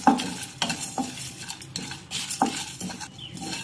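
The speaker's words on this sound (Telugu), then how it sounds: "ఒక స్పూను నువ్వులండి ఒక హాఫ్ స్పూన్ ఎగస్ట్రా వేసుకుందాం ఇవి బాగా ఫ్రై చేసుకొని మసాలా చేసుకుందాం" Sesame seeds and cashews dry-frying in a pan, with a metal spoon scraping and clinking against it in repeated strokes over a light sizzle, and no talking.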